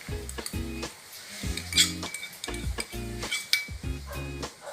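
Soy sauce, vinegar and sugar are stirred together, heard as rhythmic, evenly repeated utensil strokes with light clinks against the vessel, close and without talk.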